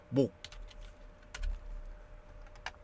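Sharp, isolated key taps on a computer keyboard, including an F8 press in Adobe Animate, land as a few quiet clicks spread over a couple of seconds, with a brief voice speaking near the start.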